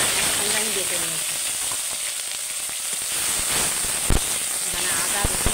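Ginger, garlic and onion paste sizzles steadily in hot oil in a wok, a loud continuous frying hiss with scattered crackles and pops throughout.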